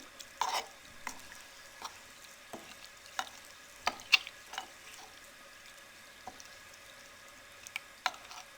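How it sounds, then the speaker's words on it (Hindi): A spoon stirs soaked oat porridge in water in a pot, making intermittent soft scrapes and light taps against the pot at an irregular pace, close by and fairly quiet. "अब इसको अच्छे से मिक्स कर लें।"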